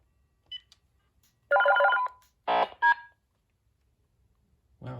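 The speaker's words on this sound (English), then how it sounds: "ringing signal, I guess, that we just heard" Two short bursts of a cordless phone's electronic ring trill close by, with a faint beep before them and quiet gaps in between.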